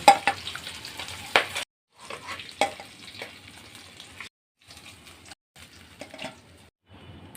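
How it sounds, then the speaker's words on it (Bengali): Carp fish pieces frying in hot oil give a loud, crackling sizzle, close by, in several bursts split by short silent breaks. "এখন বাকি মাছগুলো আমি এপিট উপিট করে ভেজে নেব"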